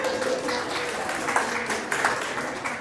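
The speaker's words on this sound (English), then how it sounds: "Can everyone give IDEX a round of applause?" An audience at an award ceremony claps for a sponsor, a dense, moderately loud patter of applause from a crowd that holds steady for the whole stretch with a few louder claps near the middle.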